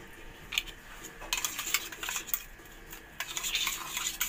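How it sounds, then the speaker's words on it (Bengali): Water swishing and clattering inside a steel mixer grinder jar as it is rinsed out with a little water, a near run of irregular splashes and light metallic knocks with short pauses, no talking. "দেখুন মিক্সি বাটির মধ্যে হালকা জল দিয়ে এটাই ধুয়ে রেডি করে মাছ মশলার মধ্যে দিয়ে দেবো।"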